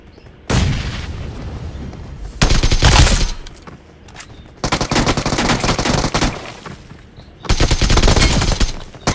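Gunfire during a squad fight in BGMI, loud rapid bursts of automatic shots in several separate volleys with short pauses between them, close and dominant.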